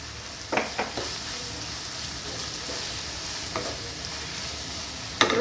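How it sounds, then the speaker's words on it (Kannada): Chopped tomatoes frying in a pan for chicken biryani, a steady close sizzle with a few sharp stirring scrapes and clinks of a spoon, no talking. "ಫ್ರೈ ಮಾಡೋಣ."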